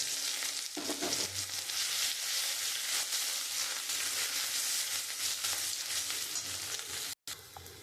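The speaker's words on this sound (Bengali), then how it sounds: "আমি ওই তেলের মধ্যে তেজপাতা, শুকনো লঙ্কা আর পাঁচফোড়ন দিয়ে দেবো।" Bay leaf, dry chilli, panch phoron and ginger fry in hot oil, giving a dense, continuous close sizzle with occasional stirring scrapes, broken by a brief silent gap near the end.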